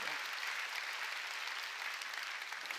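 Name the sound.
church congregation applause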